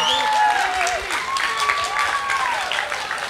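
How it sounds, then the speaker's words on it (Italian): An audience applauds at an international folklore festival in Lavello, a sustained wash of clapping heard beneath overlapping voices and sliding whistle-like tones. "Un applauso alla Romania."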